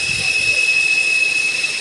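A train in a video game gives off a steady, loud hiss with a sustained high whine above it, unbroken and with no talk.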